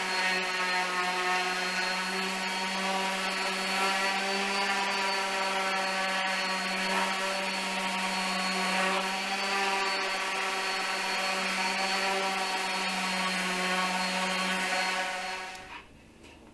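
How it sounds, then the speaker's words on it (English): Wooden boards for a coffee table being sanded with 220 grit sandpaper, heard as a continuous loud tonal power-tool drone with steady harmonics that cuts off abruptly near the end. "I'm going to sand all my pieces down on both sides with 220 grit"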